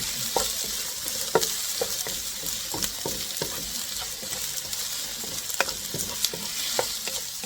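Onion fries in a pan for a boneless bangus milkfish steak dish, with a steady bright sizzle and regular scraping stirs that clack sharply every second or so, close by and with no talk.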